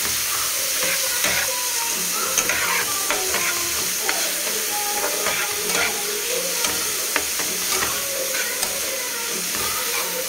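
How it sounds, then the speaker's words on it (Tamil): Food sizzling and frying in a hot pan while a ladle stirs it, with steady hiss and crackle throughout and scattered scraping, clinking strokes of the ladle against the pan, close and continuous. "இங்கே பாருங்கள், இதை போட்டு நல்லா நம்ம வறுத்துக்கலாம்."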